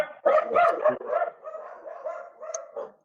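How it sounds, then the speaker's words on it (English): A dog barks repeatedly at close range, a run of loud, overlapping barks and yips that fade slightly toward the end. "There it barked."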